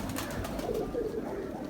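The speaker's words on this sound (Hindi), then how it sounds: "ये हमारे 29 टी कबूतर हैं जी, टैडी कबूतर।" Teddy pigeons of breed 29 T, a cross of Ferozpuri males with teddy hens, coo continuously in a low, soft, throaty murmur from close by, with several birds overlapping.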